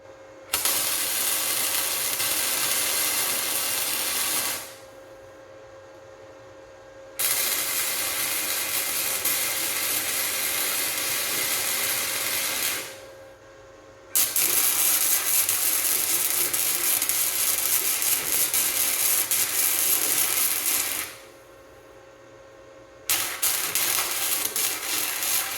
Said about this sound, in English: all we did is tack weld this thing real quick